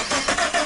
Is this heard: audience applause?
no